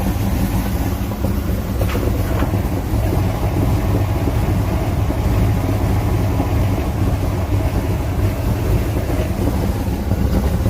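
A 1932 Ford hot rod engine runs for the first time on its new gas tank, a loud, steady rumbling drone that continues without pause and without talk.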